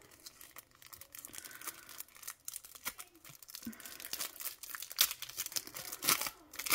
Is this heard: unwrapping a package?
yes